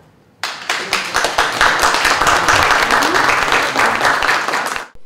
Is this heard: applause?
yes